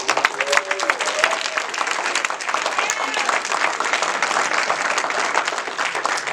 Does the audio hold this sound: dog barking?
no